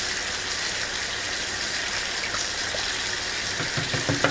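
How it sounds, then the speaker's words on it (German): Tap water pours into two bottles to rinse them in a home kitchen, a continuous hissing gush that stays steady, with a few sharper gurgles and sloshes toward the end. "Und dann beide Flaschen leicht ausspülen, also Wasser reinmachen."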